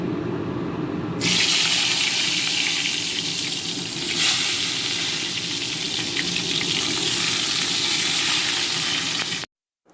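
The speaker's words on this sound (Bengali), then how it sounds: "এই বেগুনগুলো আলাদা করে ভেজে রেখে দিচ্ছি" Eggplant pieces fry in hot oil in a pan, making a steady, close, hissing sizzle that swells and holds for several seconds before cutting off abruptly at the end.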